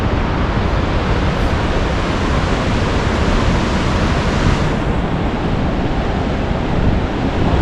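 Ocean waves breaking along the Humboldt coast near Luffenholtz, a dense, continuous roar of surf, loud and steady throughout with no talking.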